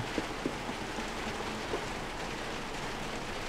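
Steady rain falls in the video game Little Nightmares 2 as an even, close hiss, with a few faint knocks near the start.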